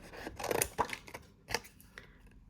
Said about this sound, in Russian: И вырезаю картинку.